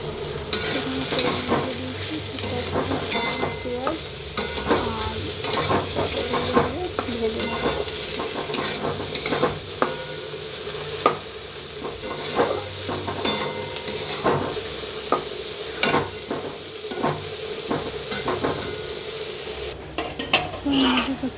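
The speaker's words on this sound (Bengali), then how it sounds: "এদিকে কড়াতে আমি তো আলু পেঁয়াজ পটলগুলো ভেজে নেবো একসাথে" Potatoes, onions and pointed gourd fry together in a kadai, a steady close sizzle with frequent scrapes and clinks of a spatula stirring against the pan throughout.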